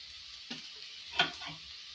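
Egg and drumstick leaves stir-frying in a pan, a faint sizzle broken by a few soft scrapes and clinks of the spatula over two seconds, quiet and close with no voices.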